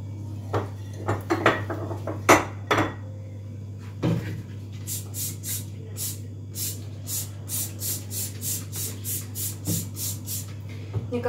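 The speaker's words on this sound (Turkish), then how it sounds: "Ben bulaşıkları yıkayana kadar da çay ısınmış olur." Dishes clatter and clink in a sink, followed by a rhythmic series of short sprays or scrubbing strokes over a steady low hum.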